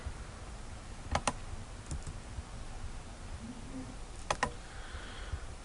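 A few sparse pairs of sharp keyboard clicks over a quiet room hum, faint and widely spaced.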